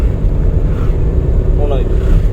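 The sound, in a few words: car engine accelerating during driving lesson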